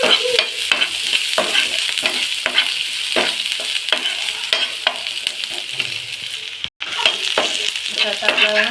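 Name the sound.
frying chopped garlic and ginger in a pan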